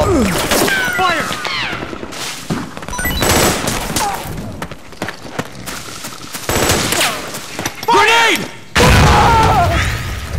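Rapid gunfire bursts and heavy booms from the combat video game Metal Gear Solid 4, crackling in dense volleys throughout with shouting voices mixed in and a loud blast near the end.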